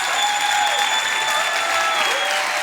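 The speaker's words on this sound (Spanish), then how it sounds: "se merece un aplauso lleno de ovación" A church congregation applauds during a sermon, a broad, sustained patter of many hands at moderate volume, with faint held tones from music or instruments running underneath the whole time.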